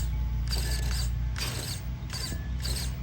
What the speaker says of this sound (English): I don't know what that is. Is that the servo?